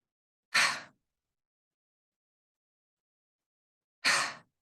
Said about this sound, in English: Big inhale.